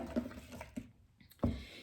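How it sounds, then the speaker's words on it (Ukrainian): Water poured into a saucepan of apples being cooked down for jam, heard as brief soft splashing bursts in a quiet kitchen. "заливаємо, тут в мене є 50 грам води"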